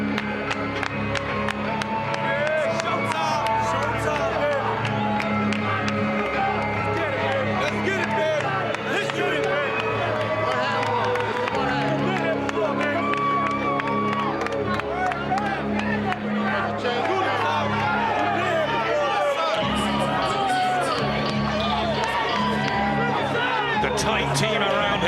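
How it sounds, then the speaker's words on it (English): A boxing arena crowd roars continuously as Shane Mosley makes his entrance for his fight against Floyd Mayweather, a dense, loud wash of cheering and babble with commentators talking over it throughout. "Just listen to the reaction that Shane Mosley will get"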